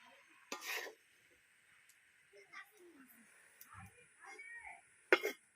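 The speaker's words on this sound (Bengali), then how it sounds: "এবার আমি ঢাকা চাপা দিয়ে দেব" A lid goes onto a cooking pot of water lily stems and prawns with a short metallic clatter, and a second sharp clink comes a few seconds later, while a person talks quietly in between.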